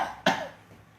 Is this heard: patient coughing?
yes